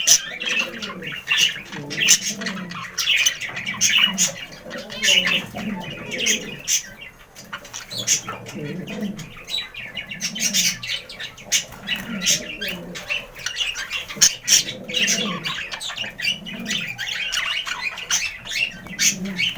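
Budgerigars in a breeding cage at the start of the breeding season chirp, squawk and warble continuously, a busy close chatter of overlapping calls with occasional wing flutters.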